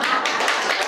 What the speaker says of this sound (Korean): 막 박수만 치지 말고